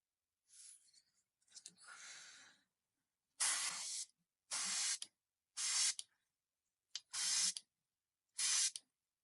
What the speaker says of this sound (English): this goes to show how fast and easy you can actually airbrush something